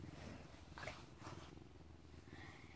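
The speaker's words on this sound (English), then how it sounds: "but he's really purring." A pet cat purring up close, a continuous soft low rumble that carries on steadily with a few faint brighter noises over it and no talk.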